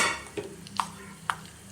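Mustard seeds, split lentils, cumin, fenugreek and dried red chili frying in hot oil for an idli-powder gojju tempering give a steady low sizzle, broken by two sharp pops or spoon clinks, with no voices.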